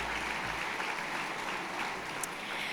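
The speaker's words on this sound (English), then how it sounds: "a big round of applause to them" Faint, distant audience applause at an evening awards event, a soft continuous patter of clapping throughout with one small sharp click near the end.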